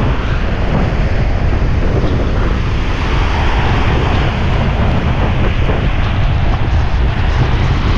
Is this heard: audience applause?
no